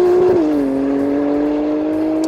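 A 1400-horsepower AMS Performance Alpha 12 Nissan GT-R drones steadily at close range, its engine note dipping slightly then holding an even, sustained tone without speech.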